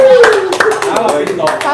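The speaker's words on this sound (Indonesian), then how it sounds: "Wow. Tepuk tangan dulu." Several people clapping hands together in a room, a short burst of quick irregular claps mixed with voices talking over them.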